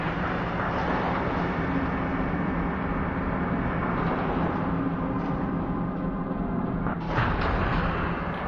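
Steel Battalion mech missile launchers firing in a video game, a continuous heavy rumbling roar with a sharper burst near the end, loud and close with no voices.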